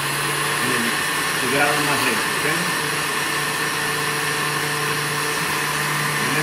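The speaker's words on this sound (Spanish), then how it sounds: "vamos a empezar lentamente en la licuadora" A kitchen blender running steadily at low speed while mixing Caesar salad dressing, a continuous motor whir throughout, with a person speaking briefly over it near the start.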